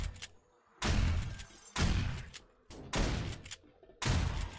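Gunfire in the zombie survival game 7 Days to Die: four loud, separate bursts of shots spaced about a second apart, each striking sharply and trailing off, with quiet gaps between.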